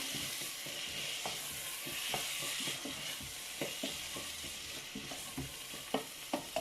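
Spinach sautéing in a pan with salt, a soft continuous sizzle under a run of light, irregular spatula taps and scrapes that grow sharper toward the end.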